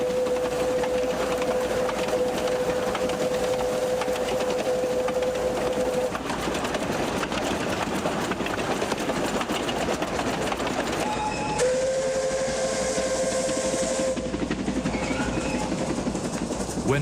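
A steam locomotive in China runs along a curved track with continuous rumbling and rattling, and two long steady whistle or horn blasts sound over the running noise.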